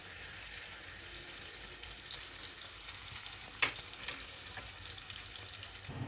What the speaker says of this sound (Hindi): गोल्डन होने तक इसको फ्राई करेंगे हम।